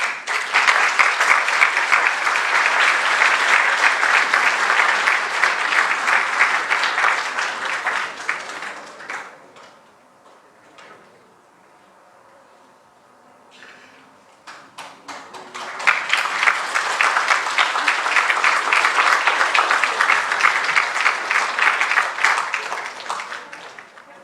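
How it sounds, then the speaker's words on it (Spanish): An audience at a constitutional lecture applauds a councillor who has just arrived, in two long bursts of dense clapping separated by a brief lull of scattered claps. "Vamos a dar un aplauso a nuestra concejal que acaba de llegar."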